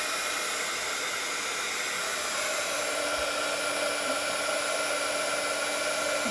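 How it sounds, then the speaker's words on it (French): A heat gun blows a steady, loud, breathy roar while melting embossing powder on a stamped card, continuous and unbroken throughout with no speech. "Le pistolet qui va faire chauffer et fondre ma poudre."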